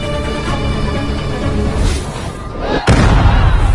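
A loud, sudden explosive boom in an Indian action film cuts through a dense, busy soundtrack, followed by a sustained roaring rumble.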